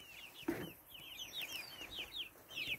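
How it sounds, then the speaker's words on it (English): Young heirloom-breed chickens peep and cheep in a rapid string of high chirps, with a brief lower cluck near the start. "some little chickens. These are heirloom breed."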